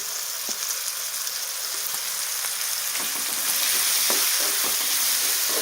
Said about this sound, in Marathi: आता आपल्याला सगळ्या भाज्या घालायच्या आहेत